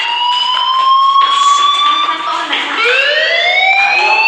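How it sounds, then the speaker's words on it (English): A loud, steady electronic fire alarm tone from a video game that holds its pitch, then dips and sweeps back up, sounding continuously with layered harmonics throughout. "Hey, do you hear that fire alarm?"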